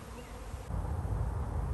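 A swarm of about 30,000 honeybees buzzes around a hive entrance, a close, dense droning hum that swells louder partway through and holds steady.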